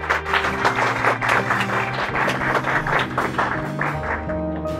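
Live audience clapping after a request for loud applause, a dense wash of claps over sustained musical tones, loud and close, with no speech.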